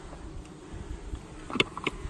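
Honey bees buzz around a hive with Pureco triple wax foundation frames in late September, a low steady drone with a few louder passes as individual bees fly close.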